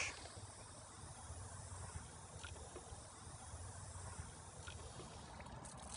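Dark, dirty water gushes from a whole-house water filter tank during backwash, a continuous rushing, trickling flow at moderate, even loudness for several seconds, with no one speaking.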